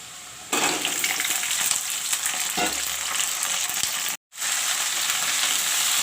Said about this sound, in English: I put in the bhindis and the potatoes. Now this will fry.